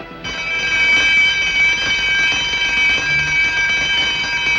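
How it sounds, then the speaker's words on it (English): A continuous electric alarm bell or buzzer rings loud and steady inside a palace, a bright sustained tone running the whole time with no talk over it. "That alarm meant that someone had been captured."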